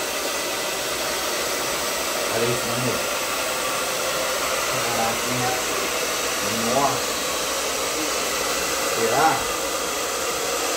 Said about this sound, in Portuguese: Sobe mais o secador